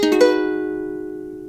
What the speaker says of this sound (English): the chord itself should sound like this